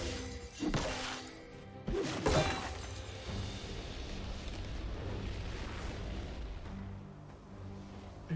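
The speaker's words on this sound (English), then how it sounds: "Blue team's turret has been destroyed." A turret is destroyed in League of Legends, heard as a couple of sharp shattering crashes early on followed by a rumbling low blast that fades into steady game ambience.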